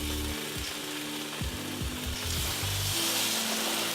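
Chicken sizzles in olive oil in a frying pan, a loud, continuous hiss close by, with low knocking thuds from the pan underneath and no talking.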